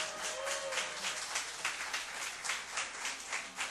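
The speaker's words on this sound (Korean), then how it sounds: "누군가 이야기할 때 박수로 쳐주세요" A church congregation applauds together, a dense, moderately distant patter of many hands clapping steadily for a few seconds.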